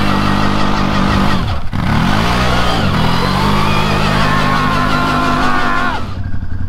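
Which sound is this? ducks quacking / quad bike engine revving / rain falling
quad bike engine revving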